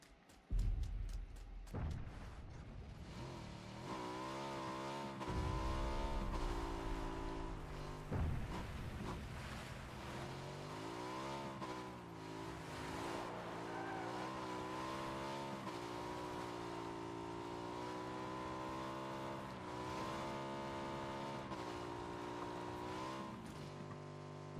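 A motorcycle engine in PUBG drones steadily and fairly close, its pitch rising and dipping through gear changes and throttle swells, with a couple of sharp impacts near the start.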